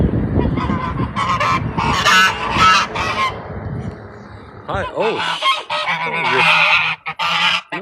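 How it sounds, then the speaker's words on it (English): Geese at an ocean home in Taiwan honk loudly and close by in several harsh, overlapping bursts, with a person briefly speaking between the calls. "Are those, is that a goose?"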